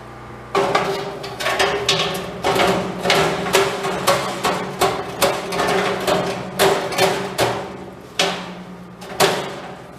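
Repeated sharp hammer blows striking a metal grate into place on a charcoal kiln, irregular but steady, loud and close, with brief pauses between clusters of hits.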